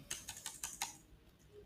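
Keystrokes on a computer keyboard entering a value into an Excel spreadsheet: about five crisp, evenly spaced taps in the first second, then quiet, close and fairly faint.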